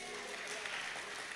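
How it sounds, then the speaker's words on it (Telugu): A church congregation claps together at a Sunday prayer service, a dense, steady patter of many hands filling the space at moderate loudness for the whole moment, with no pauses. "చప్పట్లు కొట్టండి."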